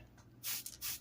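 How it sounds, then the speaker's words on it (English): Two quick hissing bursts of cleaning liquid are sprayed onto a rug wrap during washing. The sprays are close and brief, separated by a short gap, over a faint low hum. "Spray this side."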